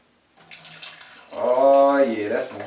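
Orange juice pours through a strainer into a leftover container, starting as a thin trickle and swelling into a louder gurgling stream close by, heard alone.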